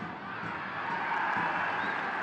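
Stadium crowd at a Lamar Hunt US Open Cup soccer match between Birmingham Legion FC and Charlotte FC roars in a steady, swelling cheer, distant and diffuse, filling the whole stretch without pause.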